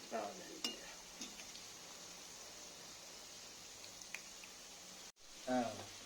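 Moong dal fritters (pesara punugulu) frying in a pan: a faint, steady soft sizzle with occasional light stirring clinks, while a voice talks over it.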